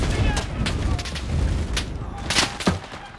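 Machine gun fire during a quarry invasion battle in Enlisted, with repeated sharp bursts and shots crackling over a rumbling battlefield, some close and loud, amid a busy game mix.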